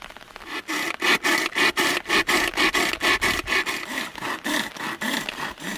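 Tomatoes ground in a small hand grinder at a forest campsite during heavy rain, giving a close, steady run of rhythmic rasping, churning strokes with no talk.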